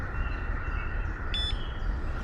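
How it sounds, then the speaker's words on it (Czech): Outdoors on the bank of the Elbe, a fishing bite alarm gives one short electronic beep that stands out over a steady wash of river and wind noise. "Pípáčky, možná si ho dám."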